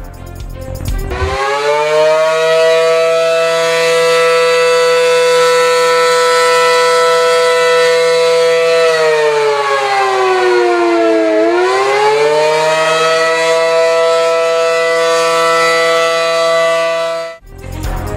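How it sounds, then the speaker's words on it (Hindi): A civil defense warning siren wails loud and steady for about sixteen seconds, its pitch sagging and rising once midway before cutting off, with no voices over it. "खैबर पख्तूनख्वा के 29 अजला में सायरन नस्ब"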